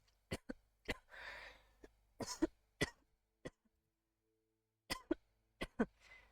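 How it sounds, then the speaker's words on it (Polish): Repeated coughing fits in sharp separate bursts, some doubled, with raspy breaths between, loud and close, no other speech. "Kaszlenie."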